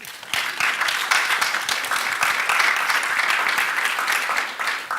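Audience at a panel discussion breaks into sustained applause, dense overlapping claps that stay loud and even for the whole stretch with no talking on top.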